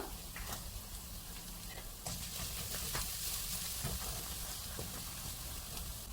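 Garlic and ginger fry in hot oil for a Kerala-style dried mango pickle, giving a steady sizzle with intermittent stirring clicks and scrapes; the sizzle swells louder partway through, as if more garlic went in.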